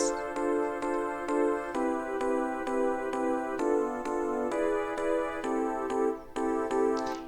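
Sustained seventh chords on a keyboard-like instrument change every couple of seconds in a steady dance-song progression, bright and rich, with no voices.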